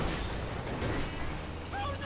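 Zombies explode in the chaotic Grand Theft Auto 5 video game, with a dense, continuous roar of blasts and gunfire-like bursts while someone talks over it.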